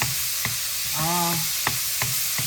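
Pre-cooked ham slices fry in a pan with a steady close sizzle. Several soft clicks of stirring come through, along with a brief voiced sound.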